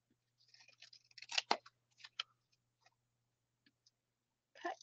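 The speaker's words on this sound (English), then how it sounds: "Oh, cut it a little bit more." Scissors cutting card paper during a card-making class: a few quiet, crisp snips and clicks clustered together, then sparse faint ticks in near silence.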